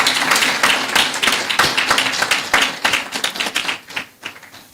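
Conference audience at a management seminar clapping in a dense, steady round of applause that holds for several seconds, then thins out and tapers off near the end.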